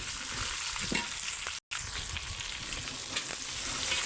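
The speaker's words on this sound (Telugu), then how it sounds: "దొండకాయ ముక్కలు వేయించుకుందాం" Ivy gourd (tindora) pieces frying in oil in a pan, a steady close sizzle with light crackle throughout and a brief dropout partway, no voices.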